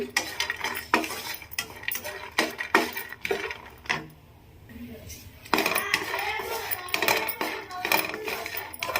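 Cashews frying in a pan, with frequent clinking and scraping of a metal spoon against the pan over a low sizzle, broken by a brief quieter pause.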